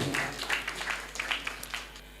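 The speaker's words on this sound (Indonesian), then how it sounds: "tepuk tangan Pak SBY" A crowd at a political gathering with young voters in Klaten applauds for former president SBY, fairly faint scattered clapping that thins out toward the end, with a low steady hum beneath.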